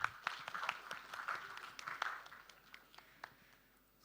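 An audience at a medical quiz event applauds, a brisk, fairly faint patter of many hands clapping that thins out toward the end, with no voices over it.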